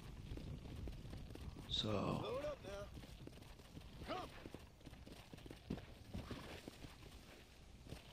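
Horse hooves clip-clop in the video game Red Dead Redemption Undead Nightmare, a steady, fairly faint walking beat under someone talking and ambient game sound.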